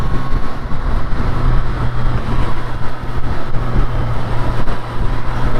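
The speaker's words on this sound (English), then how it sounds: "And that induction noise, oh my god" A 2023 Triumph Street Triple RS motorcycle engine roars steadily up close, a dense throaty drone with a rushing intake sound and some wind noise, continuous throughout.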